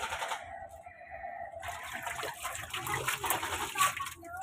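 Water runs into an automatic washing machine in a steady, close rushing and splashing stream that grows louder partway through, with no talk.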